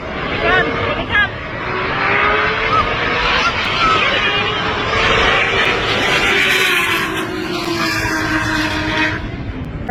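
Two roughly 900-horsepower, ethanol-fuelled drag race cars roar side by side in a roll race at Pocono, loud and sustained with rising engine pitch throughout, voices faintly mixed in.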